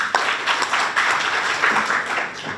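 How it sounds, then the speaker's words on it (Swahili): An audience at a Tanzanian women's marine-livelihoods gathering bursting into applause, a dense, continuous patter of many hands clapping nearby for a couple of seconds. "Naomba tuwapigie makofi."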